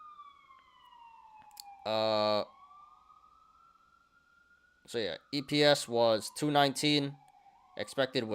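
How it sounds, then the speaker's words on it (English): Police sirens passing outside wail steadily in the background, a long sliding tone that keeps going while someone talks over it at close range. "Sorry about the sirens, guys."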